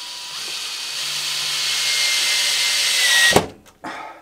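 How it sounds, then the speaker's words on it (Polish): A power drill drives the first screw through a drawer slide into cabinet wood, a steady whirring run of about three seconds that ends abruptly, followed by a short second burst. "przykręcamy pierwszy wkręt"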